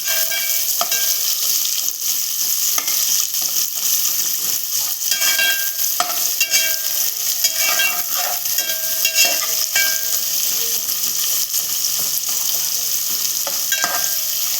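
Two large sliced onions frying in a pan for spicy prawn rice, a loud continuous sizzle with crackling and repeated stirring scrapes, close and steady throughout.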